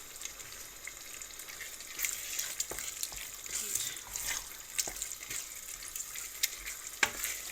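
Ragu meat for pasta fries quietly in a pan, a low steady sizzle punctuated by irregular scrapes and clacks of stirring, with faint background talk.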